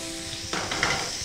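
Stuffed squid skewers fry in a covered pan in a Goan kitchen, a steady sizzle with a sudden louder crackling burst partway through, close and alone.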